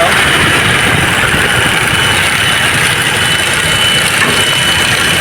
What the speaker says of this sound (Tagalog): Toyota Innova. This gasoline engine.